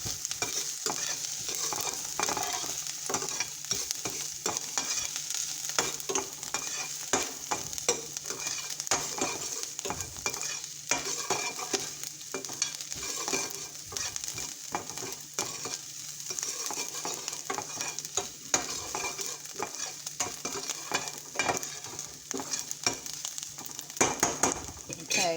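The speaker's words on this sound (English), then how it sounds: "Give it a good stir." Meatball sauce being stirred as it sizzles in a pan, a steady close frying hiss with scraping spoon strokes throughout, alone without talk.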